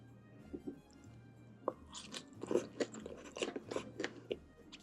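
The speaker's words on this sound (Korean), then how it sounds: "숙주 조금 아삭한데 괜찮네." Crunchy bean sprouts, served as part of a home-cooked Korean meal, are chewed close up. Quiet at first, then a run of crisp, wet crunches in an irregular rhythm, with no talking.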